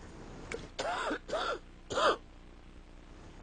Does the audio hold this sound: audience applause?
no